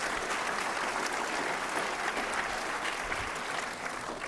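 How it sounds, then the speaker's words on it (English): An audience at a business elevator pitch competition gives the judges a steady round of applause, dense and continuous from start to finish. "How about a round of applause for all of the judges who help us out?"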